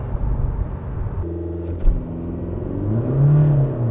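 A 2025 Cupra Formentor facelift with a 2.0 TDI 150 hp diesel and DSG gearbox accelerating, a loud close engine rumble whose pitch climbs steadily through the gears, with a brief thump partway through.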